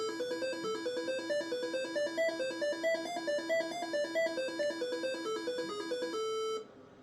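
A Tandy 1000 computer plays Paratrooper with bright, square-wave beeping tones in a fast, stepping tune that runs continuously at moderate volume and then stops abruptly near the end.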